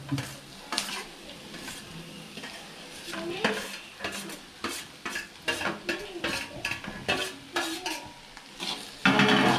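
Okra is stir-fried in a pan for vendakkai poriyal, a low sizzle under repeated scraping and clattering strokes of a spatula against the metal, irregular and close, with no speech.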